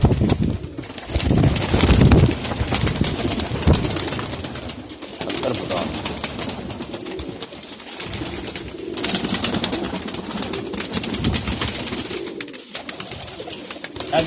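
Golden pigeons and other domestic pigeons coo at a pigeon sale in Jhelum, a low continuous murmur of many birds close by, with occasional sharp rustles and a few louder bursts over the flock.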